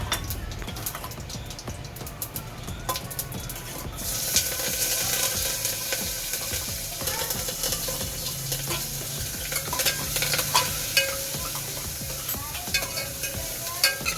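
Curry leaves and green chillies sizzle in the hot tempering for a sweet-and-sour kadhi. A steady, close frying hiss grows louder after a few seconds, with spoon-stirring scrapes and no talking.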